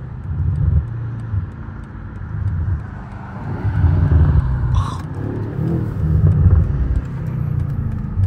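A BMW M8 Competition driving on city streets at night in Toronto, its engine a loud, deep rumble close by that swells and drops with each downshift, with a brief sharp crackle partway through.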